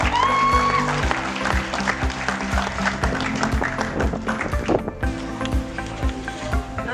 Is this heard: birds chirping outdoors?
no